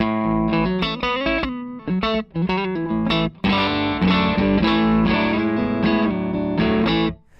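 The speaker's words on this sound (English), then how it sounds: "So now we are just getting the sound of the delay." Distorted electric guitar through an Empress Echosystem delay set fully wet, playing a quick, choppy riff then sustained chords, each note doubled by a very fast single echo, loud and close.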